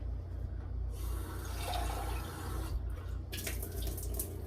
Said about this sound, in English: we're going to fill up our jar about halfway with water